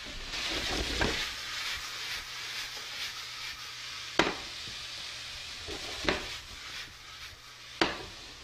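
Vegetables sauté with garlic and ginger in a hot pan for a pineapple-sweet chile glazed pork dish, giving a steady soft sizzle with a few sharp clinks of a utensil against the pan.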